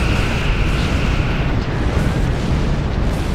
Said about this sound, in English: Remote detonate now.